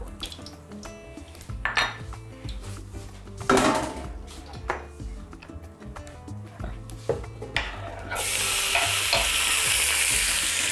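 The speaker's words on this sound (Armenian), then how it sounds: "և տապակում ենք միսը։" Lamb meat sizzling in a hot pan in rendered tail fat, with stirring and clattering of a utensil against the pan, the frying hiss swelling louder toward the end.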